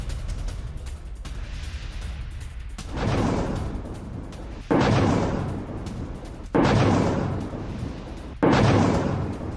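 Airstrikes in Lebanon's Bekaa Valley deliver four heavy, booming blasts at roughly two-second intervals. Each impact is loud and broad, with a rumbling tail that fades before the next hit.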